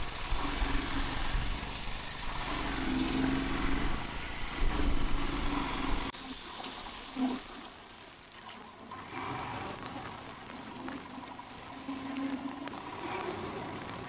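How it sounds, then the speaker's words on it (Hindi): A motorcycle ridden in rain on a cold mountain route, its engine droning steadily under a broad hiss of wind and spray, with a sudden change partway through to a quieter, rougher rumble. "तो भाई बारिश में बाइक चलाना रिस्की तो है ही"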